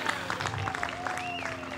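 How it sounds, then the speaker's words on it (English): Spectators at a disc golf tournament clap and cheer from a distance, a loose patter of applause under a commentator's talk through the whole short stretch. "They're cheering"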